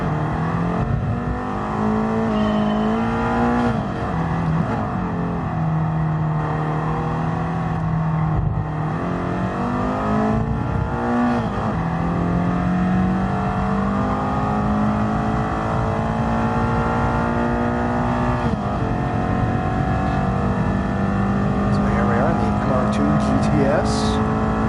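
Simulated race car engine in GT Sport on super soft tyres, 248 horsepower, droning steadily with rising and falling revs throughout, loud and continuous while someone talks over it.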